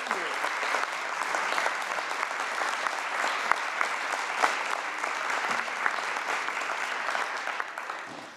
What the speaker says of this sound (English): will you please join me in a round of applause for Don Howard